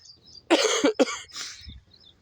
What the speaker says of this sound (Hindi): 2-3 दिन से ना खांसी लगी हुई है यार मुझे